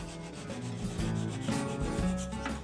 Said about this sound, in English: I cut off the excess using a small Japanese handsaw.